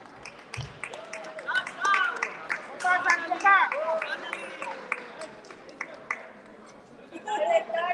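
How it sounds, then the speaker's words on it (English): Scattered clapping from a modest audience at a Bangladeshi chamber Eid party at the University of South Wales greets a performer coming on stage, sparse claps mixed with people chatting nearby. "A very big round of applause for Ibn Ali Saad."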